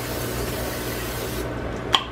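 A steady hissing spray of cooking oil onto pans runs for about a second and a half, then stops, followed by a sharp metallic tap.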